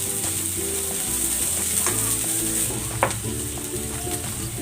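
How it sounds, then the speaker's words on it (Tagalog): Garlic and onion sautéing in a pan for garlic pork steak, a steady close sizzle with occasional scraping clicks of the utensil, no voices. "Magisa na tayo. Ilagay na natin tong bawang. Ilagay na natin itong sibuyas."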